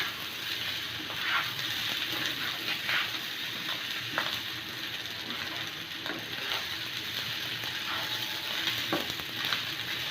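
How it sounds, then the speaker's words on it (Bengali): Broken rice (khud) frying in oil in a pan, stirred steadily, giving a continuous close sizzle broken by repeated scraping and clicking strokes of the spoon over about ten seconds, no voices. "এখন এই খুদটাকে খুব ভালো করে ভেজে নেব"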